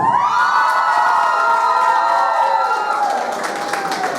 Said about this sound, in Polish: Dziewczyny piszczą, panowie klaszczą!